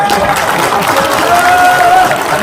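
Party rally audience applauding at a People Power Party members' meeting in Gijang County, a steady dense clapping wash that holds at a constant loud level throughout, with crowd murmur mixed in.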